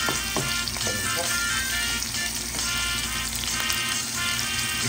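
Garlic, ginger and onion sauté in a hot pan with a steady, loud, dense sizzle and a few faint stirring clicks, with no talk.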